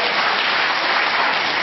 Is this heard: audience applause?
yes